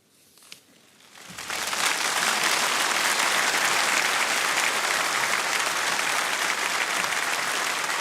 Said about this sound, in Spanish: La Asamblea responde al Santo Padre en esta homilía con un gran aplauso